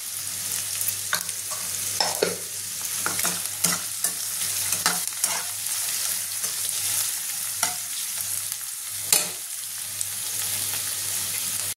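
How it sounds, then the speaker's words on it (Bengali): Chicken fries gently in a pan with a soft, even sizzle, lightly cooked with a little salt, broken by scraping and stirring sounds and occasional clacks of a spatula. "বেশি ভাজবো না, লাল করবো না, হালকা ভাজবো।"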